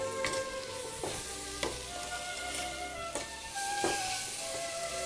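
Spices sauté with tomato and salt in a pan for chicken curry. A continuous, close sizzle is punctuated by several sharp stirring scrapes against the pan, with no talking.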